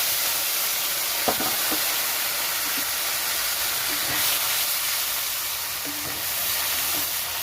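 Tomato with green chilli, cumin and mustard sautéing in oil in a pan, a steady close hiss and sizzle with faint scraping stirs now and then, and no voices.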